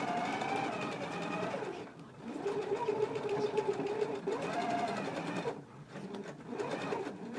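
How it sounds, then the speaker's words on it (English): A sewing machine runs a regular stitch on shorts fabric with a steady mechanical hum that pauses briefly and resumes across several short runs, close and moderately quiet. "now we can go ahead and stitch between this notch and this large circle using our regular machine stitch"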